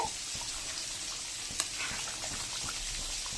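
Duck meat curry with a spoonful of cumin powder being stirred in a pan, a soft steady sizzle with light scraping and one sharp clink partway through, no voices.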